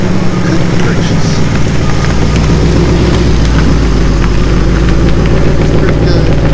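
A 2019 Mustang Bullitt, freshly paint-coated and wet-looking, idles with a steady low engine rumble as it is pulled out of a shop, with a continuous loud drone throughout.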